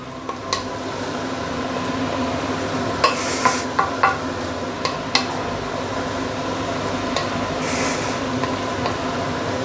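KL Hokkien mee noodles stir-fried in a wok as the broth reduces, a steady broad sizzle with scattered scraping clicks of the spatula, loudest in the first half, no talking.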